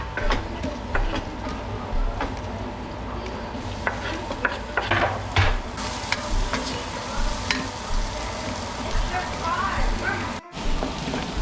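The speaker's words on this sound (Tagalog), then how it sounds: "parang pinapa-brown ko talaga yung sibuyas at saka yung bawang para ang bango ay papasok sa kanyang meat ng pork." Onion and garlic are browned in a pan for pork adobo in a home kitchen. A steady sizzle runs throughout, broken by clinks and scrapes from the stirring utensil, and it stays loud and close.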